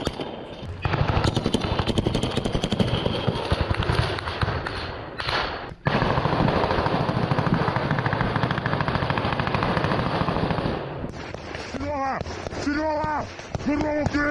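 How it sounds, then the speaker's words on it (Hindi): Battlefield machine-gun fire during a Ukrainian ground forces attack on a defensive line: dense, continuous rapid bursts, loud and close, pausing briefly midway, with a voice talking near the end. "गोलियों की बौछार से थर्रा उठा पूरा इलाका।"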